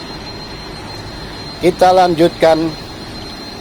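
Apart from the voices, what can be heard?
main engines in passenger ship KM Umsini engine room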